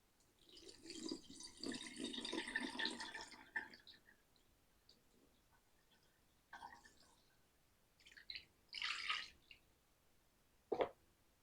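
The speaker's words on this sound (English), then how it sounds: "we're literally going to strain the liquid into the saucepan" Strained elderflower liquid pours into a saucepan in a sustained splashing run, then gives way to quieter intermittent drips and short trickles, close and fairly soft, with no talking.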